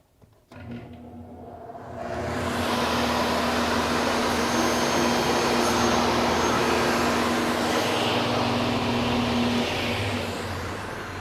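A MiniMax C26 combination machine's sliding table saw spins up with a whir, then holds a loud steady roar for several seconds as it cuts a board, easing slightly toward the end.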